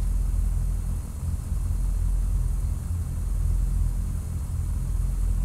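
A steady, loud drone from an aircraft engine in a flight simulator game runs unbroken throughout, a constant low rumble with broadband hiss and no talking.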